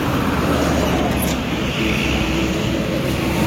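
Buses idle and move through a busy Indonesian bus terminal on a late afternoon, with a steady, loud engine and traffic rumble that runs through the whole clip without breaks.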